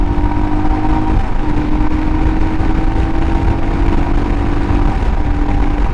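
A Royal Enfield Himalayan motorcycle engine, 2022 model, runs steadily and loud throughout, its mid-pitched drone holding nearly constant with slight shifts in tone as the throttle is held open, no voices over it.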